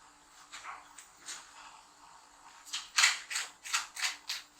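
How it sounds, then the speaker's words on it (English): Tarot cards being shuffled by hand make a series of soft, papery riffles and slides in quick bursts, close and quiet in an otherwise still room, growing busier toward the end. "And then I shuffle"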